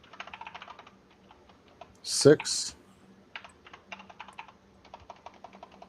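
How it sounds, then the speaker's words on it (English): Computer keyboard typing during a model-building livestream, bursts of rapid close keystrokes before and after a short spoken word in the middle. "must be typing"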